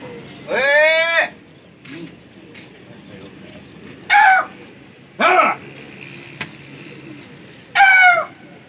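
Domestic flying pigeons during a rooftop pigeon contest, with several separate loud cooing and calling bursts spaced a few seconds apart over quiet background, close by.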